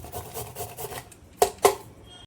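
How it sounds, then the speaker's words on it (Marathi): A carrot rubbed against a kitchen grater in a home kitchen, two sharp rasping strokes standing out after softer scraping, close and fairly loud with no talk. "गाजर मोठे तुकडे असले की शिजत नाही त्यामुळं गाजर मी किसून घेते"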